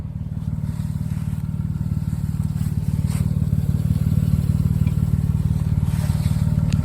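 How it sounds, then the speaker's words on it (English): A Gator utility vehicle drags a Jeep in a recovery, its engine droning loud and steady with a low rumbling throb that builds slightly throughout, heard up close with no talking. "It's just dragging the Jeep now, Mike."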